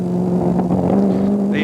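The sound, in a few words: Ford GT40 road-going version driving past at race circuit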